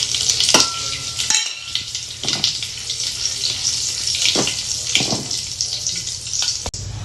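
Curry leaves sizzle in hot coconut oil with popping mustard seeds and dried red chillies while a dal and cucumber curry is tempered. A loud, steady hiss carries on throughout, broken by a few sharp crackles and stirring knocks.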